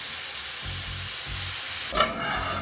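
Chicken pieces sautéing in a pan for a Bengali chicken stew, a steady close hiss and sizzle with faint low rhythmic pulses and a brief louder stir or splash near the end.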